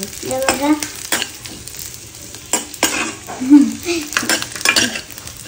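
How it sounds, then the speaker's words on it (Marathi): Bombil (Bombay duck) fish frying in a little oil until crisp, with a steady close sizzle broken by repeated scraping and stirring clatters of a utensil against the pan. "त्याच्यात आपण बोंबील टाकले फ्राय करून घेऊया. मस्त कडक होईपर्यंत फ्राय करायचं."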